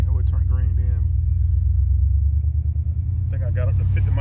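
A car's engine rumbles loud and steady as it accelerates while driving on a road up to about 50 miles per hour, with someone talking over the drone at the start and end.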